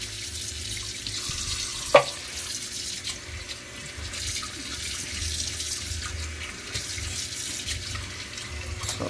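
Water pouring from a tap into a cooking pot, a continuous splashing stream that runs throughout, with one sharp clink of the pot early on.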